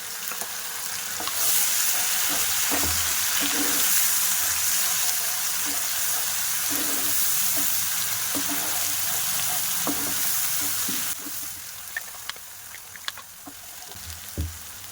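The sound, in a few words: spices and masala paste frying for chicken curry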